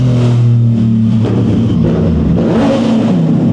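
A motorcycle with a loud aftermarket exhaust revs and rumbles close by, its deep engine note rising in pitch as the throttle opens, loud and continuous with no speech.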